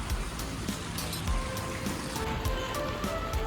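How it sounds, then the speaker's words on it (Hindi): Mixed rain and snow falls steadily in the mountains along the Manali to Darcha route, a close, even patter of drops spattering on surfaces that continues unbroken for several seconds. "तो बीच में बारिश हो रही है"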